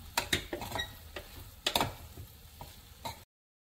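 Spoon scraping and stirring a healthy homemade dish with a squeeze of lemon, giving a few sharp clinks and scrapes against the bowl amid soft mixing rustle, close and fairly quiet.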